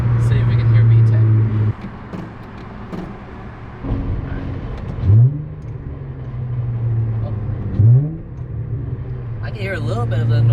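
An Acura TL fitted with a short ram cold air intake idles with a low engine hum, then revs twice in quick swoops, mostly from inside the car, with faint talk and road noise in the background.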